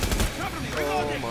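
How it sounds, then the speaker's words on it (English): Gunfire rattles in Rainbow Six Siege, a rapid burst of shots packed into a moment of game audio, loud and dense, with a player talking over it. "you see that gun fire at him?"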